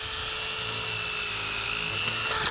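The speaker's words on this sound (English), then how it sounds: "so now my hole's drilled" Power drill with a bit pre-drilling a hole in composite decking, a steady high-pitched whine held close and loud for the whole stretch, with no talking.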